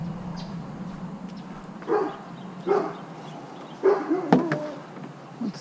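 A dog near a curbside bin lets out a few separate barks, spaced over a few seconds, against a quiet outdoor hum.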